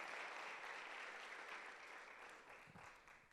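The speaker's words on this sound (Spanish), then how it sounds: "Alguien apláudale a Dios." A church congregation applauds during a sermon, a faint, steady patter of clapping that thins out toward the end.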